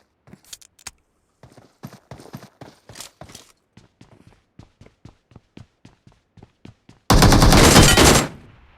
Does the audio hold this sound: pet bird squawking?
no